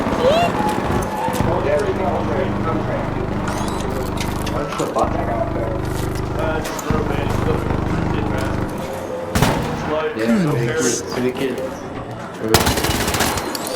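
Rapid video-game gunfire from a cheap PvP gun, the Bobcat, rattles in bursts through a busy mix of other game sounds, with players talking throughout.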